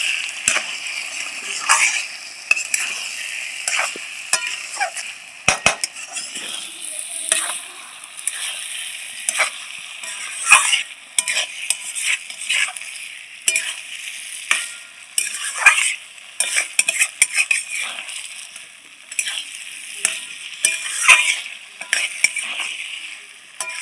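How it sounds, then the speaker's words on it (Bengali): Gobindobhog rice being stirred in a pan for Bengali muri ghonto, a steady run of scraping and rattling strokes over a soft sizzle, close and fairly loud, with no talk. "খুব ভালো করে চালটা মেশানো হয়ে গেছে।"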